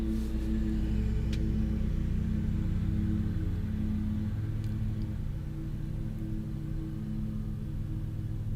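A lawn mower drones steadily in the background at an even, unbroken level for the whole stretch, with a low rumbling engine hum and no voices.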